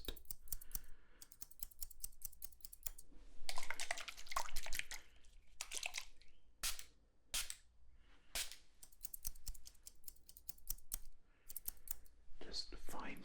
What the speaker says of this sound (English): you can see why these scissors are fine tuning. They have a finer noise to them, a finer sound.